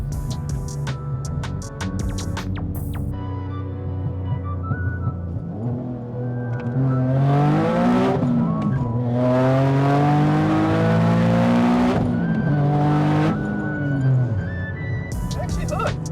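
A boosted 590-horsepower Nissan 370Z on skinny rear tires revs hard and climbs through rising gears with a loud roar, while people talk and shout over it up close.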